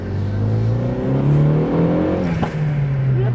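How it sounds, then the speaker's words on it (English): A 2012 Renault Megane RS265 hot hatchback revs its exhaust close by, a steady loud drone climbing and falling in pitch over a few seconds, with no talk. "I'm going to listen to that exhaust again."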